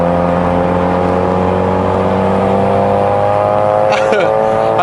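A Mazda RX-7 engine running rich drones loud and steady from close by, with a constant rotary hum and a brief shift in pitch near the end.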